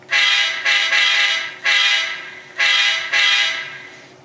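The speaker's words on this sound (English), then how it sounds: "Now the horn." Horn of an Intermountain SD40-2 N-scale model locomotive sounding in six bright, buzzy blasts, some short and some held, each cutting off cleanly with brief gaps between, loud and close with no talking.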